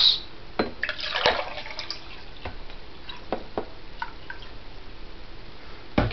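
Water trickles and drips into a glass, with a splashy gush early on and then scattered small drips. It sounds close and quiet, with no speech.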